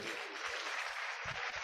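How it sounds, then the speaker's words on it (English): Steady audience applause at a club presidential installation ceremony, a continuous wash of many hands clapping, fairly faint and distant, with no speech over it. "Another round of applause."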